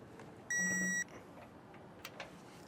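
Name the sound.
torque wrench beep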